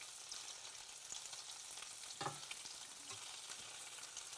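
Stuffed meatballs fry in a pan with a steady, soft sizzle of hot oil, broken by a brief louder scrape and spatter partway through as they are turned.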